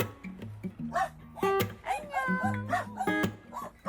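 Puppies rescued from a dog farm, living in a vinyl greenhouse due for demolition, yip, bark and whimper close by in overlapping high-pitched bursts, with a voice talking over them.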